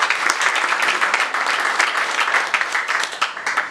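Steady, dense applause from a crowd of voters greeting an election result at a union assembly vote, sustained and fairly loud for the whole stretch with no talk over it.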